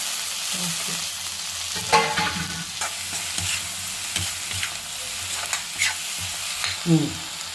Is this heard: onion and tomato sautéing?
yes